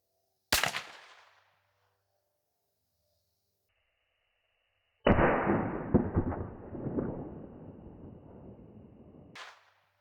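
A .410 shotgun with a full choke fires 12-pellet BBB buckshot twice, outdoors. The first report is sharp and brief; the second, about four seconds later, is loud, with a long rolling echo that fades away.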